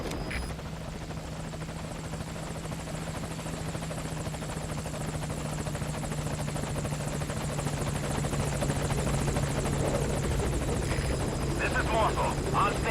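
A helicopter's rotor in Metal Gear Solid: Ground Zeroes drones steadily throughout, a low constant hum with a faint whine above it, holding at the same level the whole time.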